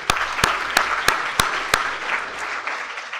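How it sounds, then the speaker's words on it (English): Audience applause at a WA Mining Club event on risk, exploration and technology: a steady wash of clapping hands, punctuated by several sharp, louder claps at regular intervals, before thinning out at the end. "A round of applause, please."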